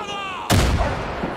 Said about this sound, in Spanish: Mierda, que es una bomba de estas.